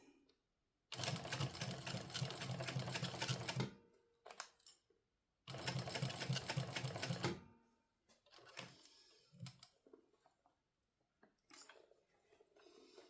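A sewing machine stitches a seam on a crossbody bag in two sustained runs of rapid, close mechanical whirring and clatter, separated and followed by quieter handling and fabric shuffling.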